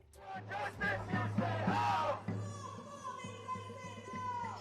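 A street crowd protesting against Netanyahu, chanting and yelling together in a loud, sustained roar that swells and then eases into a more scattered murmur of many voices.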